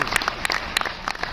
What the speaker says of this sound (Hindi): इतना एक बार हमारी स्पेस एजेंसी इसरो के लिए जोरदार तालियां बजाएंगे।